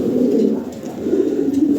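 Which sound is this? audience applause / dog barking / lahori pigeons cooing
lahori pigeons cooing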